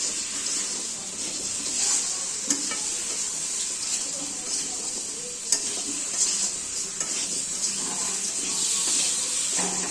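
Bottle gourd fries with chili, salt and turmeric in a pan, making a continuous hissing sizzle with occasional stirring clinks and soft taps, fairly close.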